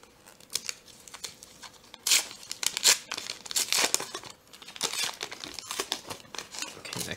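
The foil wrapper of a 1990-91 Upper Deck hockey card pack is crinkled, then torn open in a few sharp ripping bursts, followed by softer rustling and handling close up.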